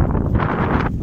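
Wind buffets the microphone on a pedestrian suspension bridge near Randa, Switzerland, a steady close roar of low rumbling gusts lasting about a second with no talk.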